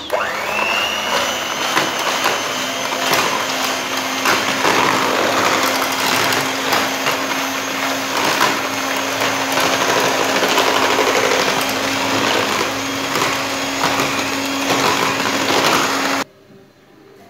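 An electric hand mixer whirs steadily as it beats an egg mixture into cake batter in a home kitchen, a loud continuous motor hum that runs unbroken for about sixteen seconds before cutting off.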